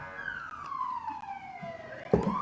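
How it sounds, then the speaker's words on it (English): A siren wails past, its pitch sliding steadily downward as it moves away, then a sharp burst of noise at the end. "Some of you can hear the nice siren going by."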